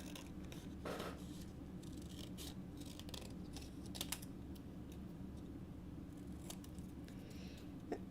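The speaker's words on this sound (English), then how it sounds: "Okay, so I'm just going to cut this one out." Scissors snip through a stamped paper image in a crafting session, a run of faint, brief cutting clicks over a steady low hum, with no talking.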